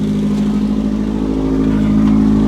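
A Mazda B2600 pickup's loud exhaust idling and revving, a steady close, low droning engine note that rises slightly toward the end.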